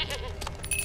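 Goat bleating in The Witcher 3, a few close wavering bleats over game ambience with no talk.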